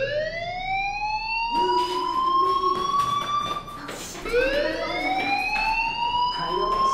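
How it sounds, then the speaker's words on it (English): Fire alarm in the video game Life Is Strange, a loud rising electronic siren wail that sweeps up repeatedly in long cycles and keeps going throughout, with faint voices underneath. "Hey, do you hear that fire alarm?"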